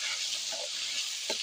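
Chicken pieces coated in biryani masala sizzle steadily in a hot pan, a close, even hiss with a couple of brief stirring scrapes.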